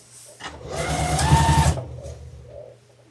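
A sewing machine runs a quarter-inch seam along an apron panel stitched right sides together, its rapid mechanical whir building for about a second and a half before stopping, close and loud with no talking.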